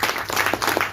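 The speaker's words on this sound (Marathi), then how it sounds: "मॅडम साठी आपण जरा टाळ्या वाजूया" Audience applause for the event organizer in a press hall: a short, dense burst of many hands clapping together, steady and fairly loud throughout.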